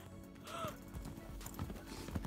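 A horse's hooves clip-clop in quick irregular strikes during free jumping, with a brief whinny-like squeal early on and scattered thuds over a noisy outdoor background.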